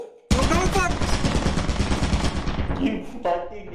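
A sudden, dense burst of rapid gunfire in a first-person shooter game, loud and close, fires for about two seconds and then tails off, with a voice briefly heard near the end.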